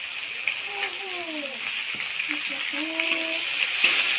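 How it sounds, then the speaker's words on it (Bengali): Onions frying in hot oil for a Pangash and Tengra fish curry, a steady broadband sizzle running throughout with a few soft stirring clicks and a faint voice underneath. "এই তেলে পেঁয়াজ দিয়ে দেবো।"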